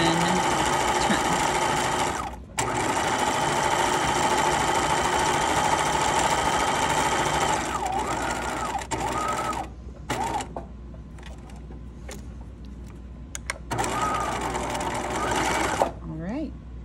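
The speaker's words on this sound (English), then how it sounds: "that is how you edge stitch your band" A sewing machine hums steadily while edge stitching a fabric band for a wristlet keychain, with short pauses and restarts, and a voice talks over it.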